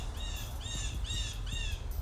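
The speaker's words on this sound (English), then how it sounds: "Loud ass bird." A loud bird squawking outdoors in four harsh, evenly spaced calls close by, each a rasping caw-like squawk over low background rumble.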